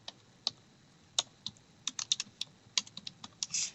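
Typing on a computer keyboard while entering a heading into a document, with irregular sharp key clicks that come sparsely at first, then quicken into a close, dry burst, with no talk.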